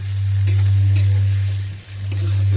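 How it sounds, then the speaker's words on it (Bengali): Chopped onion and chili fry in hot oil with a loud, steady sizzle and bursts of crackle, the spatter holding close and constant with only a brief dip, no one speaking. "প্রথমে পেঁয়াজ কুচি আর মরিচ দিল, দিয়ে ভেজে নিচ্ছে।"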